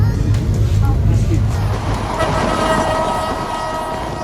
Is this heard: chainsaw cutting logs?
no